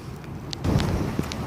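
Steady broadband wind roars outside a polytunnel on an allotment in February, gusting louder after the first half second, with faint rumbling underneath and no talking.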